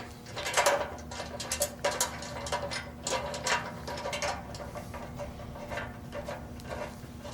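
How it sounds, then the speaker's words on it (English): A Phillips screwdriver turns a screw into the mounting bracket of a machine stand for a 7- or 12-needle embroidery machine, giving close, irregular ratcheting clicks and metallic scrapes that fade toward the end. "It can help to use a Phillips screwdriver if you're unable to start it by hand, pressing gently on both sides until the screw starts into the hole in the mounting bracket."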